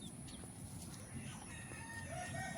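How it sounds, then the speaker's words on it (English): A Leghorn hen and a White Rock hen in a backyard garden give faint, distant clucks over quiet outdoor background noise. "Here's my leghorn hen and my white rock hen."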